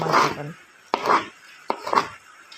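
Knife cutting through okra on a board, three separate sharp chops spaced about a second apart, close and fairly loud with no talk.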